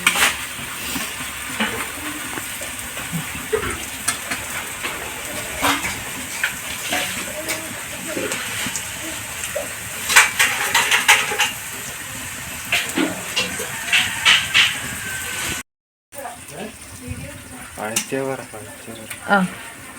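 Onions sizzling as they sauté in a pan for biryani, a steady broadband frying hiss with occasional stirring scrapes, close and continuous for the whole stretch, with a brief cut near the end.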